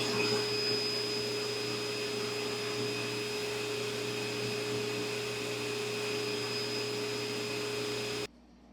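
Motorized buffing wheel polishing a pipe stem with graded polishing compounds, a steady whirring hum with a high tonal whine running evenly, then cutting off abruptly near the end.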